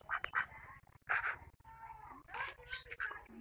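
Harsh, nasal honks from geese or similar waterfowl ring out nearby in a few uneven bursts, with short quiet spells between them.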